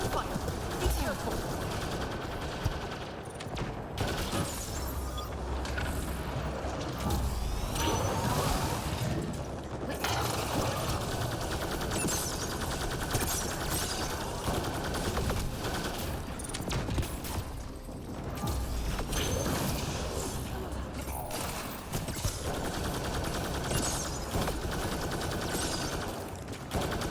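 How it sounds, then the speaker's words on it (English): Multiplayer combat in Mass Effect Andromeda brings steady automatic gunfire and rattling weapon mechanisms in a dense, continuous mix, with game voices calling out over the shooting. "Gunfire. Be careful."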